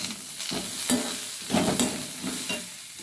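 Chutney ingredients for radish chutney (onion, green chilies, dried red chilies and coriander leaves) sautéing in oil, a close crackling sizzle with bursts of stirring and scraping in the pan.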